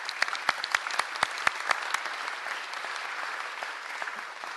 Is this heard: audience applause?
yes